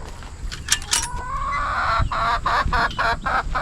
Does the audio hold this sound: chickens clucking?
yes